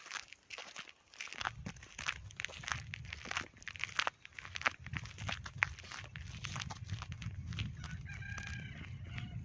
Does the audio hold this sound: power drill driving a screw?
no